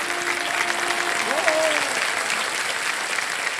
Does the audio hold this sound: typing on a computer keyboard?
no